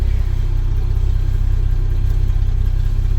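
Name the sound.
1972 Chevy truck engine running in first gear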